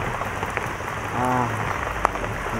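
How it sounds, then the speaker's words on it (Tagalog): Heavy rain pours steadily on surfaces in a dense, continuous hiss, with a brief faint voice partway through and a single sharp tap near the end. "napakalakas ng ulan talaga"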